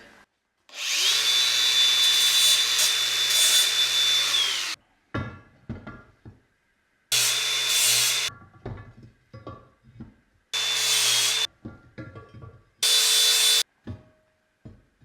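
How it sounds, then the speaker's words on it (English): Angle grinder trimming small metal corners while repairing a Polaris 6x6 utility vehicle, loud whining bursts in four separate runs, one long and three short, with clanks and handling noises in the gaps. "Grind just a tiny amount of these corners here."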